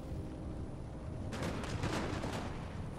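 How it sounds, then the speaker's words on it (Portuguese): Gunfire in a Napoleon: Total War battle against Mameluke forces in Egypt, a cluster of several sharp reports and crackling shots bursting out midway over a steady low battlefield rumble, no talk. "Eita, deram um tiro aqui."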